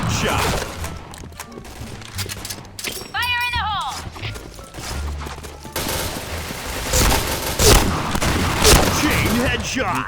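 Rapid gunfire bursts from a headshot-only mode in an online shooting game, loud and dense, with repeated shots and impacts running throughout under excited talk from a player.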